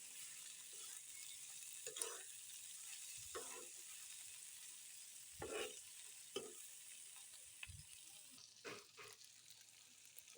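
Green chillies fry in a pan with a faint, steady sizzle broken by occasional stirring scrapes and clatters, the cooking noise quiet and close.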